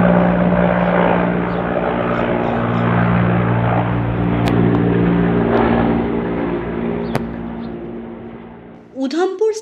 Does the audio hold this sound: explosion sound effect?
no